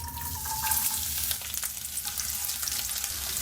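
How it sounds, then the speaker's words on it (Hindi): Finely chopped garlic fries in oil with cumin, mace and cinnamon over a medium flame, producing a continuous close sizzling crackle as the spices are stirred. "30 सेकंड लहसुन को इसी तरह चलाते हुए भून लेंगे।"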